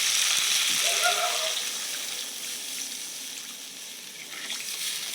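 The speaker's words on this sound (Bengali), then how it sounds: "এবার আমি জল দিয়ে দেবো" Water pours into a pan of fried spices and potatoes, a steady rushing gush close by that hisses and bubbles as it hits the hot masala, with no voices heard.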